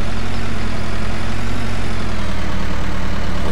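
A tractor engine runs steadily on a farm as it is hitched to a potato harvester, a loud, continuous low rumble with an even drone and no talk over it.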